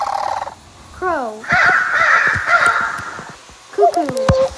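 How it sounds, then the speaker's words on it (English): A crow caws several times, hoarse and nasal, in short bursts with longer drawn-out calls between them. The calls are close and loud against a faint background hiss. "Crow."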